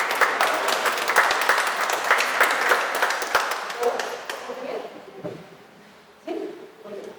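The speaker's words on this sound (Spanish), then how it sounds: "un fuerte aplauso" An audience applauds to welcome a doctor giving a mathematics talk, dense steady clapping that fades after about four seconds, followed by a speaker's voice.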